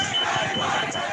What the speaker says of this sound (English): the crowd could be heard chanting